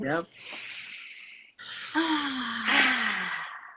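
A slow, deep breath drawn in during a guided heart-opening voice session, airy and close, starting after a brief voiced sound and rising into a long, breathy inhale with a faint tonal edge.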